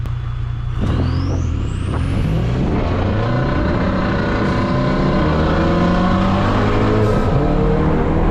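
A 400HP Ford Focus RS accelerates hard in a street race against a diesel truck, its engine roaring loud and continuous as the pitch climbs through the gears.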